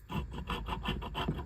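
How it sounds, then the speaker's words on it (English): A file rasps over a short piece of brass in quick, even back-and-forth strokes, about seven scrapes in a steady rhythm, close up with no talk. "start filing it flat"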